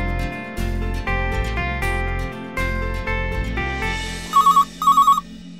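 An office telephone rings out in two short bursts of bright, warbling trills after a stretch of loud, dramatic music, with no voices heard.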